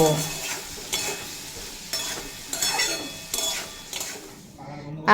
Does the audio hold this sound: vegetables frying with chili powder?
yes